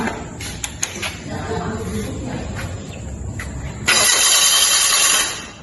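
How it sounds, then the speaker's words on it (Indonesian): A fuel-injected car engine cranks with quick ticking, then catches and holds a loud, steady running roar before easing off at the end. Faint voices are in the background. "di sini kita coba hidupkan mesinnya"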